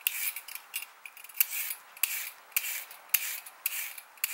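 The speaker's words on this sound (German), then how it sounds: "Jetzt nehmen wir uns die Möhren, die werden geschält." Carrots being peeled with a peeler for a braised beef dish, a series of close, quiet scraping strokes in an irregular rhythm, with no talk over them.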